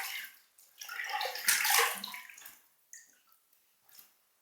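Water running from a tap as a razor is rinsed under it, a close splashing hiss that swells then tapers into brief drips and trickles.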